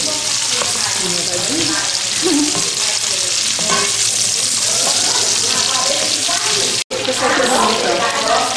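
Sausage hisses and sizzles loudly in a pan alongside browned smoked meat for feijão tropeiro, a dense close frying crackle with faint stirring, running steadily apart from one abrupt instant cut near the end.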